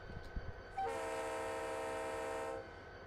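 A diesel locomotive in Train Simulator Classic sounds a steady, sustained horn blast of about two seconds, loud and close, after a few faint knocks.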